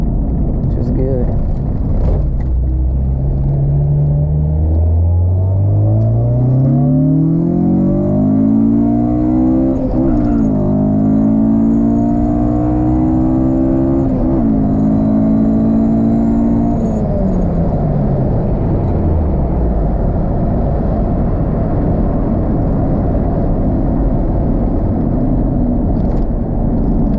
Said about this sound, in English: When I'm revving it out, it don't seem like it's struggling.